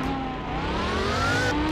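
A McLaren sports car engine roars loudly and steadily up close, its pitch climbing slowly through a sustained rev with no pauses.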